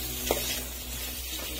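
Green peas stir-fried in a pan with chili powder give a steady low sizzle, with one brief stirring scrape near the start.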